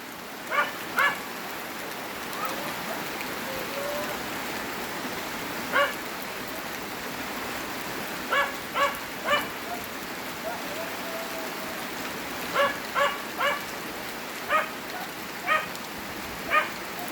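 Steady rain falls on outdoor surfaces as a continuous, even hiss, with a dog barking in scattered short bursts nearby through the downpour.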